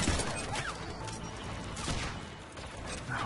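Gunfire rattles steadily through a Mass Effect 3 multiplayer match, dense bursts of shots over a constant busy game background, with no clear gaps across the few seconds.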